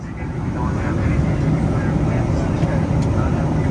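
Steady low roar fills the cabin of a Delta Boeing 767 airliner descending into Honolulu, a constant loud engine and airflow drone with no breaks.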